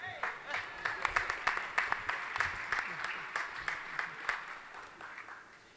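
An audience at a political roast applauds, with distinct claps clustering into a moderate burst that peaks early and then slowly thins and fades.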